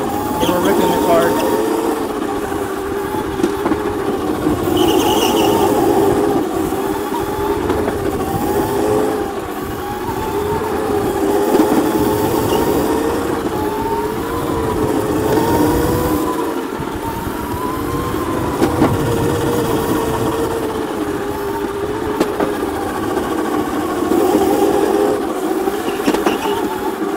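A homemade electric drift kart running at speed, near and loud, with a continuous motor whine that wavers up and down over a rough rumble and wind noise for the whole stretch.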